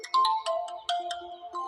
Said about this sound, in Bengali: শুভ ভাই, কেউ আপনাকে ফোন করছে।